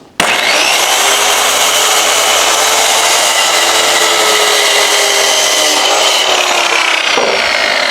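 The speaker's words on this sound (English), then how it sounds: "The first thing I do is to create a clean edge on one end, and I cut off no more than 1/2 inch." A saw cuts through a wooden board, trimming about half an inch off one end to square it. The cutting noise is loud, steady and close, running unbroken for about seven seconds before stopping abruptly.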